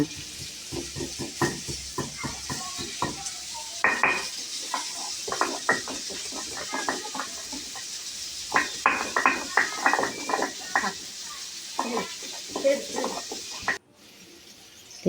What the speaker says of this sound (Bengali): ওইদিকে আলুটা যে ভাজছি